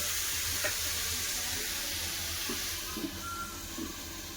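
Spice paste for a rohu fish curry frying under a lid in a pan, giving a steady muffled sizzle and hiss with a few soft bubbling pops, close and continuous.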